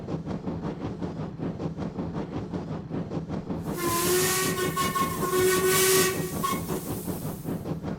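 Steam locomotive whistle shrieking loud and sustained for several seconds over the rhythmic chuff and hiss of a steam train hauling goods, the whistle entering partway through and holding steady before easing off.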